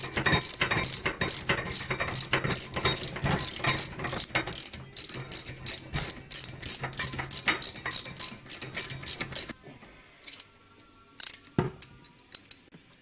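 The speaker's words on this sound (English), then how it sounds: "it'll allow you to get a socket and a brake bar in to loosen up the bolts" Socket wrench ratcheting on Jeep Wrangler brake caliper adapter bolts during a Powerstop Z36 brake upgrade, a fast run of close, sharp clicks for about ten seconds, then a few slower scattered clicks.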